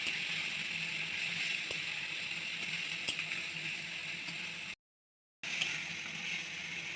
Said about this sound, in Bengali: পেঁয়াজ বাটাটাকে ভালো করে ভেজে নিচ্ছি।